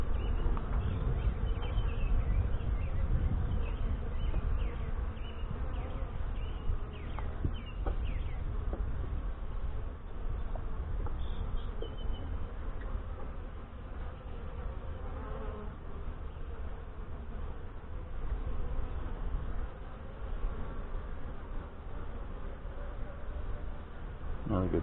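Saskatraz honey bees buzz steadily and densely around an open hive during an inspection, a continuous close insect drone that stays loud throughout with no talking.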